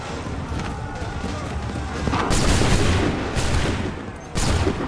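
Musket volleys in Assassin's Creed III during the battle of Lexington and Concord, with sustained loud crackling gunfire in waves, surging and dropping under shouted commands.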